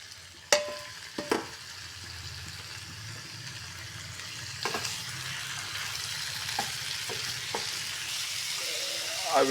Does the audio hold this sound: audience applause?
no